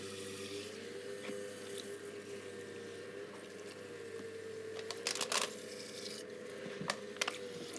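Water running from a tap at a pottery studio sink while throwing clay on a wheel, a steady hiss over a constant machine hum, with a few short knocks and splashes.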